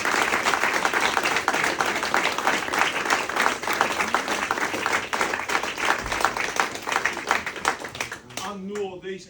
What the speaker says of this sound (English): massive round of applause for these two guys.